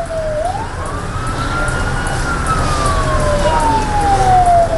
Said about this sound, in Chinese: 消防车出动救火，状况紧急，分秒必争